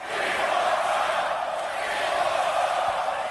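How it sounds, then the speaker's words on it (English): Crowd at a UFC event cheering and applauding, a loud continuous roar of voices and clapping. "the round of applause he's getting right now is pretty staggering"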